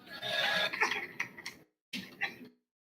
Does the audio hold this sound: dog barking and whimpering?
no